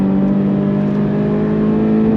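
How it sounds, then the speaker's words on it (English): A Toyota GR86's exhaust drones steadily and close, a loud sustained engine hum with a rich low tone as the driver heel-toe downshifts, no voices over it. "And with this exhaust, it sounds glorious. Heel-toe downshifting in this car is a thing of beauty."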